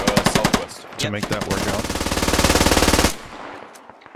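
Rapid automatic machine gun fire in the Squad Ops shooter game, an early burst of spaced shots followed by a long dense sustained volley that cuts off abruptly, loud and close, with brief speech over it.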